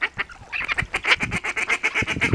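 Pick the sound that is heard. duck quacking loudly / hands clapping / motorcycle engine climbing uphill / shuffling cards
duck quacking loudly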